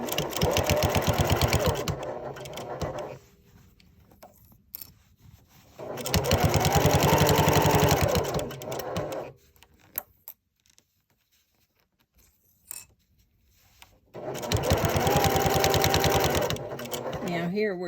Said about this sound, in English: all we're doing is sewing a straight line